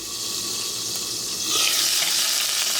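Potatoes for Guyanese fry aloo cook in a covered pan, giving a steady broadband sizzle that swells louder and brighter partway through, with no voices.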